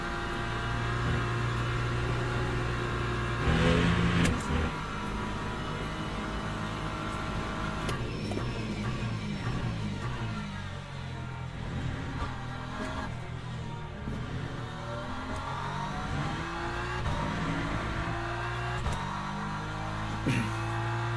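A race car engine in Le Mans Ultimate, lapping at Spa, runs loud and continuous throughout, its pitch rising and falling through gear changes and revs with no talk over it.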